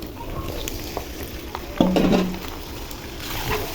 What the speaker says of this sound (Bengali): মাংসগুলো ঢেলে দিব,